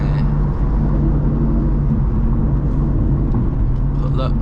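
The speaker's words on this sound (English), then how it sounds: "with the windows down, y'all can hear the car more" A BMW F82 M4 cruises on a highway with the windows down, its steady engine drone and road rumble filling the cabin continuously at a loud, even level.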